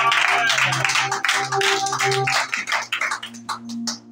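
A church congregation at a Sunday worship service claps in steady rhythm, with sustained organ or keyboard chords and raised voices acclaiming the Lord, the claps loud and close over the music.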